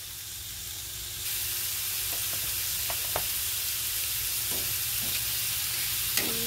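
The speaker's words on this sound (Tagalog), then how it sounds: "Igisa muna natin ang tokwa" Tofu sautéing in a hot pan gives a steady, loud sizzle and hiss that grows fuller partway through, with a few faint scrapes and taps of a utensil, and no talking.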